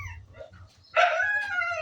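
A dog gives a sharp, close bark followed by a drawn-out whining yelp over a low rhythmic thumping in the background.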